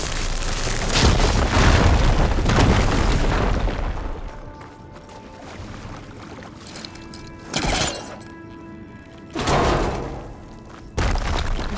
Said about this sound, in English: Should be able to blow up that fire gleam. Let's trigger chain reaction.